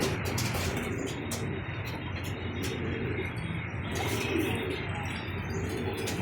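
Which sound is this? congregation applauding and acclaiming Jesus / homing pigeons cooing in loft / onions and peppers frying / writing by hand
homing pigeons cooing in loft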